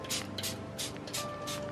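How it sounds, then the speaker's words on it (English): Short repeated bursts of a handheld spray bottle misting pest treatment onto houseplants, several quick pumps in a row with a steady background hum. "So we are spraying everywhere."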